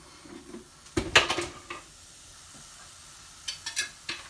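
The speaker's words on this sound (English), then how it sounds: "you can hear it start sizzling a little bit. The oil is melting." Coconut oil heats in a pan over a gas flame before a lid goes on, giving a faint sizzle alongside clattering knocks of the pan and cover, close by with no talking.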